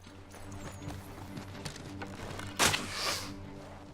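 Horse hooves gallop in Assassin's Creed III, a steady rhythmic clip-clop of hoofbeats running under game ambience, with a louder burst of noise near the end.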